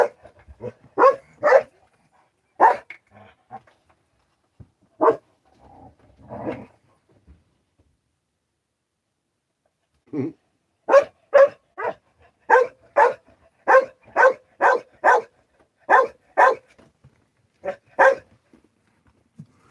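Dogs outdoors bark loudly in quick bursts, with a brief lull of softer whimpering before a long, rapid run of barking.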